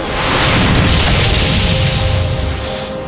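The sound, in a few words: explosion in video game Icewind Dale cutscene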